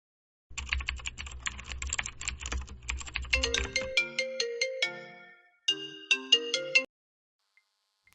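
A phone rings with an incoming call, a bright repeating ringtone melody that starts over fast keyboard typing and a low hum, then continues alone in two bursts with a brief gap between them.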